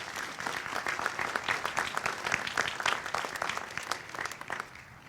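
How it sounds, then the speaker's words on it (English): A commencement audience applauds the trustees, a dense, steady burst of clapping from a large crowd that holds for several seconds and then fades out. "Please join me in welcoming our trustees."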